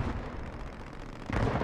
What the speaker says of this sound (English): The mortars on the southern and pontoon still coming in.